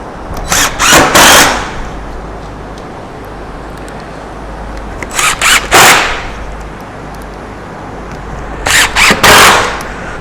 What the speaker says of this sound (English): I'm going to use a plunge router to do this.